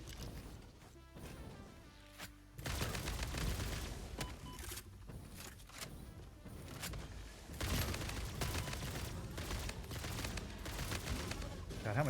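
Bursts of gunfire from a player's gun in the factory-building video game Satisfactory, loud repeated shots mixed with busy game sounds and some talk throughout.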